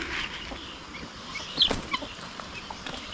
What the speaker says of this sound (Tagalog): may isang inahin, may isang sisiw na sa ilalim